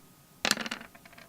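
Dice tumbling and clattering on a tabletop during a tabletop wargame roll, a sharp rattle of bounces fading into a few lighter, scattered clicks over about a second.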